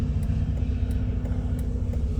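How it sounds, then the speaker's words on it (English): Noisy trucks passing on a road, a steady loud low rumble of heavy engines and tires close by, with faint ticks above and no talking. "A whole bunch of noisy trucks."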